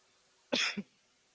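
A single short cough, close and fairly loud, during a religious discourse gathering, followed by a brief softer catch, then quiet.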